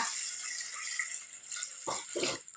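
Water pours into a pan for pineapple kesari with a soft hiss, ending in a couple of short, louder gushes. No one speaks.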